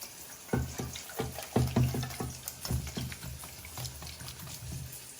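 A goat cheese dressing of mustard and balsamic vinegar is stirred in a bowl, producing soft, irregular wet clinks and scrapes at low volume.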